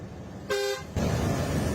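A single short car horn toot sounds over steady road noise, followed by louder passing traffic rumble.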